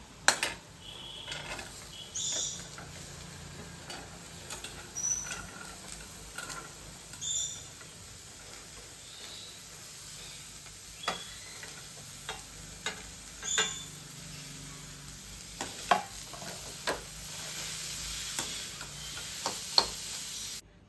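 Carrots, peas and beans are tossed with half-sautéed onions for a kodo millet pulao. The sizzle is faint and sits in the background, with scattered clicks and scrapes of stirring spread across the stretch.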